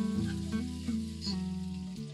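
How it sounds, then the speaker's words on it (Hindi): Chopped onion sizzles in a pan for a simmering curry of chicken, potato and pumpkin, a quiet steady frying hiss with faint clinks and stirring underneath. "अभी इसमें मैं ये कटी हुई प्याज डाल दूंगी।"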